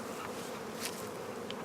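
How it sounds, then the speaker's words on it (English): Honey bees crowd a hive frame full of nectar, a dense, continuous buzzing hum heard close up, steady and unbroken with no voices. "That's a lot of bees on there."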